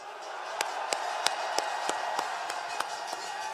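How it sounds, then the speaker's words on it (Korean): A rally crowd applauds at an anti-impeachment gathering outside Busan Station, with sharp claps in a fairly steady rhythm over a constant crowd murmur. "뜨거운 박수를 한번 보내주십시오."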